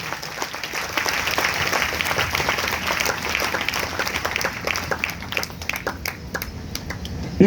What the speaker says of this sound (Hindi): अगर आए तो जोरदार तालियां बजाएंगे।